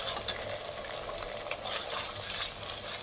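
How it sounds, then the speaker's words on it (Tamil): Chopped tomatoes tumble into a hot pan for Tamil-style chicken chukka after ginger-garlic paste, setting off a steady close sizzle and frying hiss with faint stirring scrapes throughout. "கட் பண்ணி வச்சுருக்க தக்காளி போட்டுக்கலாம்."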